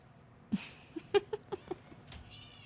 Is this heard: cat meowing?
yes